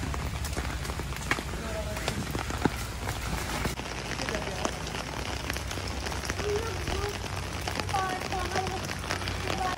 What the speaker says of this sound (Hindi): बहुत तेज बारिश हो रही है, मजा आ रहा है।